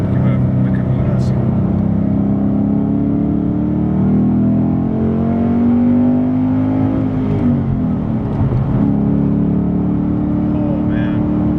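A 2016 Ford Mustang GT Performance Pack accelerating hard on an open road: a loud, close engine drone rises in pitch through the gears, dips at a shift, then climbs again, with a voice talking over it.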